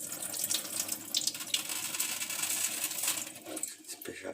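Water runs and splashes through sushi rice held in a sieve, a steady close rinsing sound with gritty rattling from the grains that tapers off near the end.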